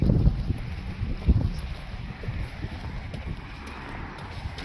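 Strong outdoor wind buffeting the microphone in uneven low gusts and rumbles, loudest early on and then settling into a steady blustery noise.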